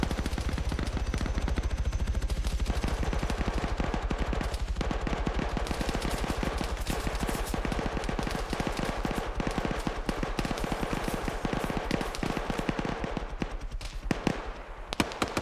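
A PKP machine gun in a Soviet-Afghan War video game scenario fires long rapid bursts of dense, rattling gunfire, steady and loud throughout, with heavier shots mixed in near the end.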